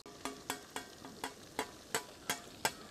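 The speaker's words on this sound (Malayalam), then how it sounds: "എണ്ണ നന്നായിട്ട് ചൂടായിട്ടുണ്ട്. കുറച്ച് ഇട്ട് വറുത്തെടുക്കണം." Marinated fish pieces fry in hot oil for Kerala fish pickle, with soft sizzling under eight or nine evenly spaced scraping stirs of a ladle against the pan.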